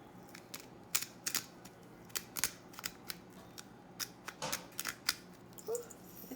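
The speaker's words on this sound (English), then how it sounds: "we're just going to take a little bit of our salt and we're just going to make one little grind" A hand-turned salt grinder crunches salt in a run of crisp, close clicking bursts, quick ratcheting snaps with brief pauses between them.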